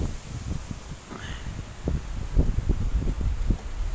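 Strong wind gusting across an outdoor mountain view, rustling steadily with broadband noise and buffeting the microphone in low thumps that swell and fade throughout.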